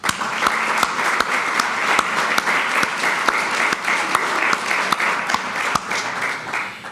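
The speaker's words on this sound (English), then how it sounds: "Let's give them one more round of applause." An audience at an awards ceremony for sustainability achievements applauds steadily, a dense and even wash of clapping that lasts the whole time.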